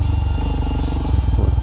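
Royal Enfield Himalayan motorcycle riding a rough, heavier trail, its engine droning steadily with a pulsing low throb and some rattling, loud and close, with a faint voice now and then.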